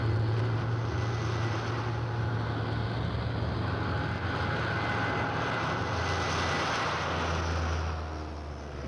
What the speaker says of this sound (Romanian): avionul de ora 17 a aterizat.